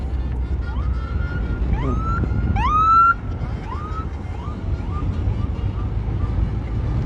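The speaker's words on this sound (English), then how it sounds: "and you can hear the bugle" A bugle blares short rising and wavering notes beside the national road championship cycling race in Belize, heard over steady roadside rumble and vehicle noise.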